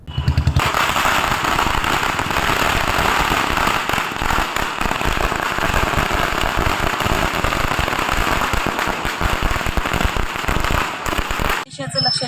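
Firecrackers burst in a dense, continuous crackling barrage at a BJP workers' celebration in Yavatmal after Fadnavis's swearing-in, loud and close, with rapid pops rolling on without pause until a sudden stop near the end.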